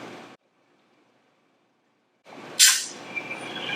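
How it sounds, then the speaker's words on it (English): Air rushes into an evacuated container as the stopper is pulled, a short bright hiss right after a stretch of near silence, followed by faint room noise and small knocks. "that hiss of the seal breaking, so the vacuum breaking"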